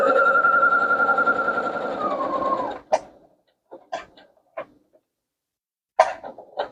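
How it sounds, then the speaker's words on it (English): A sewing machine stitches a fabric dog bandana in a steady mechanical whir for about three seconds, then stops, followed by a few faint handling clicks and taps. "I'm going to go ahead and sew up the rest"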